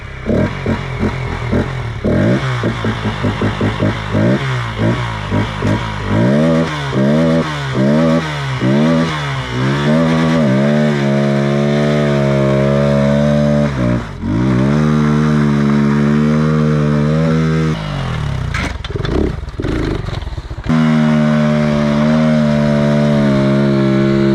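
A 125cc motorcycle engine revs and idles loudly, with sharp, violent metallic clacks from the chain recurring over the steady drone.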